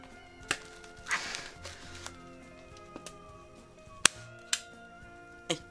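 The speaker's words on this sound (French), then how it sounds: "Maintenant on va pouvoir l'agrafer avec le fond de selle." A staple gun fastens motorcycle seat fabric to the seat base, firing several sharp, close snaps spaced irregularly, about six in all, over a quiet workshop background with a soft rustle of material.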